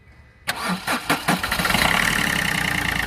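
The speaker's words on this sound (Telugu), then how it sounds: "ఒకసారి ఇప్పుడు స్టార్ట్ చేసి అయితే చూపిస్తానండి" A Chevrolet Beat LS car engine cranks with a few sharp, stuttering bursts, then catches and settles into a steady, even running hum, close by.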